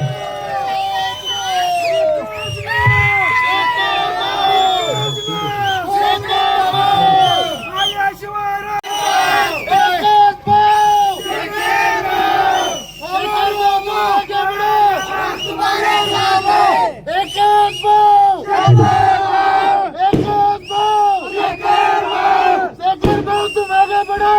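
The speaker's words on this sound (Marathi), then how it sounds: "आदरणीय शेखरभाऊ गोरेंसाठी एकदा हात वरती जोरदार टाळी झाली पाहिजे" A rally crowd cheers, shouts and applauds for Shekharbhau Gore, loud continuous roaring voices with bursts of clapping and whistles, near and sustained throughout.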